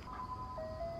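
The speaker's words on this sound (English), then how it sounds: "I swear the ice cream truck is getting closer with every moment" Ice cream truck jingle playing as a steady melodic tune, moderately distant and continuous over a low outdoor rumble for the whole second.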